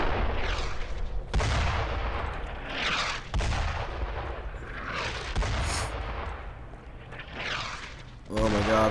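German mortar shells landing during a bombardment in the WWII game Brothers in Arms: Road to Hill 30, several loud booming impacts every second or two, each preceded by a falling whistle, with voices in the mix.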